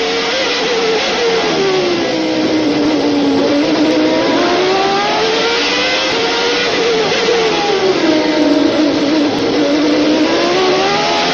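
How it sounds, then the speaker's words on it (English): Onboard a 1990 Williams Renault V10 Formula One car at the Phoenix Grand Prix, the engine screams loud and continuous, pitch rising and falling in long sweeps through gear changes. "Let's listen to the sound of this Renault engine as Thierry Boutsen takes us around."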